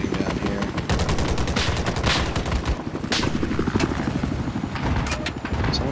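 Gunfire in Battlefield 4 crackles in rapid automatic bursts, dense and sustained over a rumbling engine-like drone, with scattered sharper shots.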